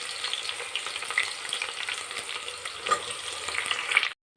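Onions, green chillies and cashews fry in oil for a mushroom biryani, a close, continuous crackling sizzle with a few bright pops, stopping abruptly at the end.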